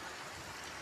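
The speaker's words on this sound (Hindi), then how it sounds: "आप देख सकते हो कितनी ज़ोर की बारिश हो रही है।" Heavy rain pours down onto a flooded street, a dense, steady hiss of falling water that fills the short moment with no break and no voices.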